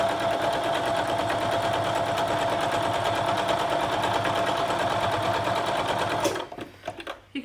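A sewing machine stitches steadily through fabric for about six seconds, a loud, even mechanical whir that stops abruptly, followed by a few quiet handling clicks.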